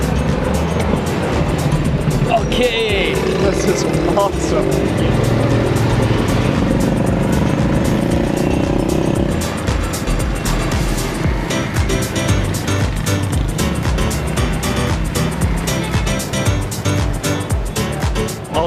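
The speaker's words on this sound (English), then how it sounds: "It's a motorbike connected to a cart. So we're gonna jump in and go down the road" A motorbike towing a passenger cart along a road in Lahore, a steady engine drone with rushing wind and road rumble heard from on board, with brief talk from riders.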